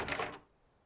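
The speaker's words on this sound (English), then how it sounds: "Jiggle the doorknob, it's locked." Locked doorknob jiggled on a brown wooden door in a video game, a quick, faint metallic rattle lasting a moment before dropping into quiet.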